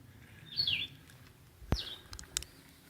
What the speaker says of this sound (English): Bird song somewhere.